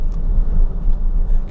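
Diesel TDI car, either a 2020 Seat Leon or a 2005 VW Golf, decelerating on the overrun in gear with no throttle: a low, steady engine and road rumble, close and continuous.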